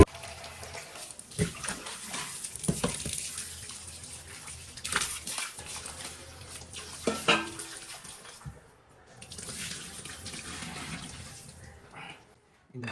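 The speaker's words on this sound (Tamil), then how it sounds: "சிக்கனை ஃபுல்லாக கழுவி எடுத்தோம்னா ரெடி ஆகிடும் மஞ்சள் போட்டு சூப்பராக கழுவி எடுத்துக்கணும்" Raw chicken is washed with turmeric in a bowl of water by hand, giving intermittent splashing, sloshing and dripping at close range, with quieter pauses between.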